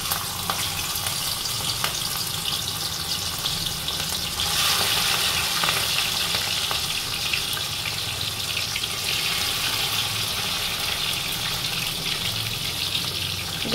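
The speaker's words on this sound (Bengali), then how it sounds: "তেলটা আমার গরম হয়ে গেছে, এবার আমি চিংড়ি মাছগুলো দেব।" Prawns frying in hot oil over a medium gas flame, a steady dense crackling sizzle with bursts of spattering throughout, close and loud with no talking.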